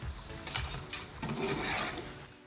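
Egg puffs made with samosa sheets sizzle while deep frying in hot oil, a continuous bubbling hiss with a few clinks and stirring scrapes from a utensil, heard without any talk.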